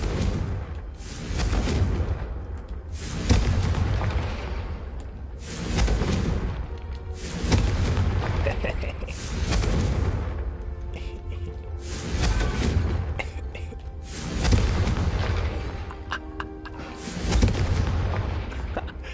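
The Confringo explosion spell goes off again and again in the Hogwarts Legacy video game, heavy booming blasts and thuds repeating every couple of seconds at high volume.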